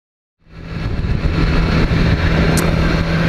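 A 2016 BMW S1000XR, a 999cc four-cylinder sports adventure motorcycle, drones steadily and fairly loud while riding, its engine rising in after a short silence and holding a continuous roar, with no voices.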